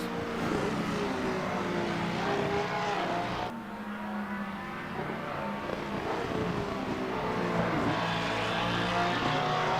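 Mustang and Porsche GT3 race cars at Laguna Seca in a racing sim, with a steady loud engine drone and shifting revs through several corners and no break.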